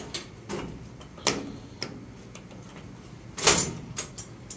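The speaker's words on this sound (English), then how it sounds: "So, yep, double opening doors." Double doors on a server rack swing open, giving a few faint, sparse clicks and soft latch knocks spaced apart, with one slightly louder metallic clack near the end over quiet room hiss.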